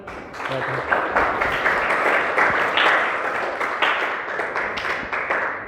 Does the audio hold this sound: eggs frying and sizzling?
no